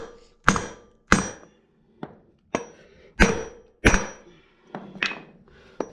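About nine sharp hammer blows strike a Mopar driveshaft yoke to seat a C-clip. The loud, ringing metallic smacks come at an uneven pace, each decaying quickly into quiet.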